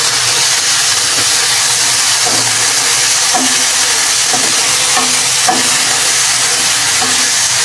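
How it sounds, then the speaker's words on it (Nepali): Capsicum and onion fry in a hot pan, a steady loud sizzle running throughout with a few soft scraping stirs on top. "प्याज रेडी भइसक्यो। म कोलभेरा हाल्छु।"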